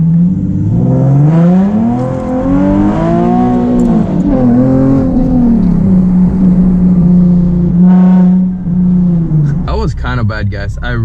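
A straight-piped Nissan 370z accelerates hard. Its loud, raspy exhaust climbs in pitch through the revs, dips at a shift and then rises again, ending in a sharp high rev burst.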